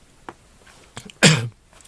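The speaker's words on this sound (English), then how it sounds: "So sorry for coughing" A single close, forceful cough on a tugboat in the Ports of Auckland, a sharp burst with a short tail, preceded by faint scattered noises and followed by near quiet.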